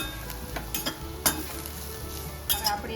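Bitter gourd shallow frying in oil in a pan, a steady close sizzle with a few sharp clinks of a utensil against the pan, no voices.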